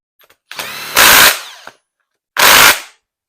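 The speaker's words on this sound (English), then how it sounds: "now this is just a nut runner. It doesn't put more than about 20 foot-pounds of torque" Two loud, close bursts of a pneumatic nut runner spinning down bolts on a 400 Pontiac engine under assembly, the first burst longer with a rising whir, the second short, followed by silence.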